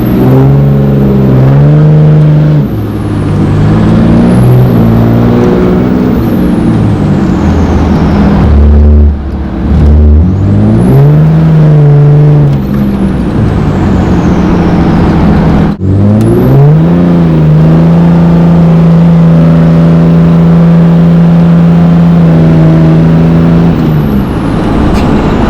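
A 650-horsepower Chevrolet Camaro SS street car revs loudly while its wheels spin without traction, the engine rising and falling through repeated surges and then holding a sustained high drone, close throughout.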